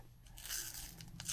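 Apple-flavoured chews being bitten and chewed up close, giving soft crunchy, crackling mouth sounds with a brief sharper bite near the end, quiet and with no talking.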